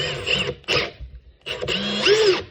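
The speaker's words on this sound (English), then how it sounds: "If you don't have air tools, I've found that you can just use an electric drill." Electric drill used in place of air tools to dimple a CZ-75 Compact Mec-Gar pistol magazine: two short whirring bursts, a pause, then a longer loud whine as the bit bites into the metal, close up.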